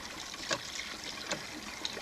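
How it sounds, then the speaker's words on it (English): At a cabin, a pump pushes river water into a bathroom sink, making a faint continuous trickle and splash with a few soft pulses. "This pump is pumping river water into a bathroom sink"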